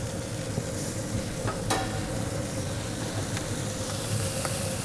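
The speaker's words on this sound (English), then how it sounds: "Now for the burgers, putting a little avocado oil down just to make sure we don't have any stickiness. Then right onto the grates." Burger patties sizzling on hot grill grates oiled with avocado oil for a smash burger, a steady dense sizzle and hiss with a few faint ticks, close and even throughout, no talking.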